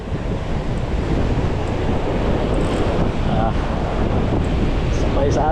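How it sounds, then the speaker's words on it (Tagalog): Ocean surf roars loudly as a rogue wave crashes, with heavy wind buffeting the microphone, a constant churning rush of water close by. "Another rogue wave."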